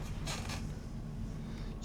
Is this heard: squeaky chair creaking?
yes